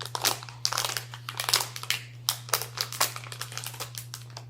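A plastic packet holding a micro:bit circuit board crinkles and crackles in a string of close, sharp bursts over a steady low electrical hum, with no talking.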